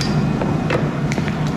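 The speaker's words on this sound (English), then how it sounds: "Just cut off the excess, hammer out the handle." Metal is hammered to shape the handle of a sai, a few sharp, ringing blows spaced irregularly over a steady low workshop hum.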